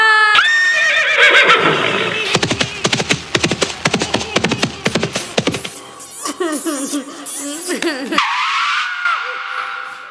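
A horse gives loud, close whinnies, with a rapid burst of clattering hoof-like knocks in the middle and voices mixed in.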